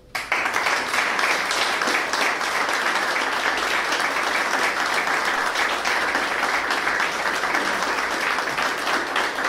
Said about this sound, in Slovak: Takže jeden veľký potlesk nás